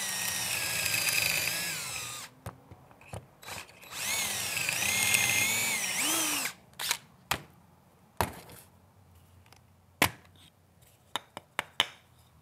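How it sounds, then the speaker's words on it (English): Drilling pocket holes into wood with a Kreg jig: two bursts of a whining power drill, each about two seconds, rising and falling in pitch, followed by scattered sharp clicks and knocks of handling the tool and workpiece nearby. "I'm going to drill a couple of holes"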